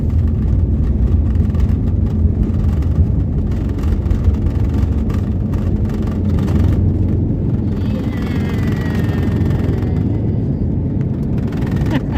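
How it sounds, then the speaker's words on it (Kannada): Airliner climbing out after takeoff from Bangalore on a flight to Kochi, heard from inside the cabin as a steady, loud engine roar and rumble that stays constant throughout. "ಮೇಲಕ್ಕೆ ನಮ್ಮ ವಿಮಾನ ಬೆಂಗಳೂರಿಂದ"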